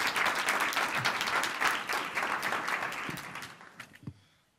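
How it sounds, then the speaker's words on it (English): An audience at a scholarship event applauds a student being welcomed, a dense, steady wash of many hands clapping that thins out and fades near the end, with a few scattered final claps. "clap it up for Lucas Vogel."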